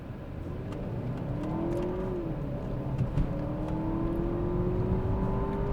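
A 2014 Audi A4 allroad quattro engine revs and accelerates hard from a standstill, pitch climbing through gear changes, heard from inside the car.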